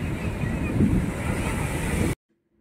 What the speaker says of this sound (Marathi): बीचच्या इथे येऊन बसलं वाळूवरती आणि ह्या पाण्याचा मस्त आवाज ऐकला